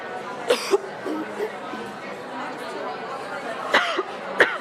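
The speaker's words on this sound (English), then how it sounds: "Wait till I'm done coughing." A few sharp coughs, two early and two late, stand out over steady background chatter in a roomy space.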